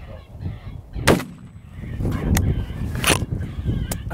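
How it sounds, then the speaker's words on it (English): Shotguns fire during a grey fox hunt in southern Texas, with sharp cracking blasts about two seconds apart, loud and close, followed by lighter pops over outdoor background noise. "Just shot a shotgun double right here."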